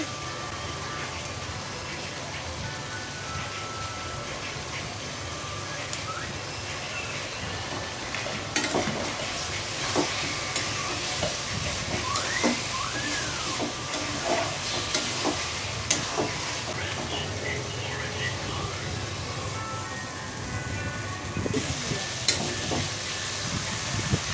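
Potatoes sizzle in oil for a hilsa curry while a spatula scrapes and turns them, giving a continuous near frying hiss with repeated stirring knocks and some faint background voices.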